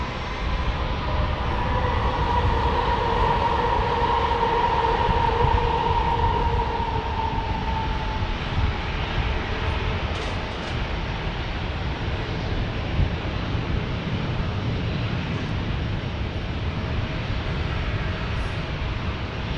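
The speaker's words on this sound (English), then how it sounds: "a 737, looks like, from United landing right now. No, it's Alaska." An Alaska Airlines Boeing 737 comes in to land, a loud passing jet whose engine whine slides downward as it nears and goes by, then fades into a broad, lingering roar.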